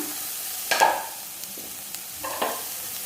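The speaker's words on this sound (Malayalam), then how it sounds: "ഇനി നമുക്ക് 1/2 ടീസ്പൂൺ മഞ്ഞൾപ്പൊടിയും കൂടെ ചേർത്ത് നന്നായിട്ടൊന്ന് ഇളക്കി കൊടുക്കാം" Turmeric powder is stirred into a vegetable stir-fry in a pan, with a few soft spoon scrapes and light rustles over a faint sizzle, close and quiet with no voices.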